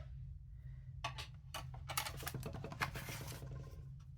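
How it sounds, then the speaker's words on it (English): A mini Stampin' Cut and Emboss machine cranking a cut plate through, giving a close run of quick clicking, ratcheting ticks that thicken into a steady patter over a low hum. "am using the mini Stampin' Cut and Emboss machine"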